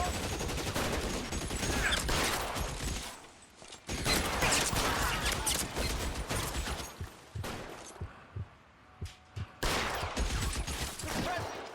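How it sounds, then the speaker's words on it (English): Volleys of gunfire in L.A. Noire crackle in loud bursts, broken by brief lulls and a few isolated single shots near the end, with little talk over them. "Suppressing fire."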